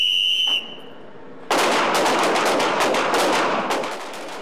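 Gunfire at a women's shooting lesson on a range: a brief high whistle tone, a pause, then a loud, close volley of rapid shots that carries on steadily and fades slightly at the end.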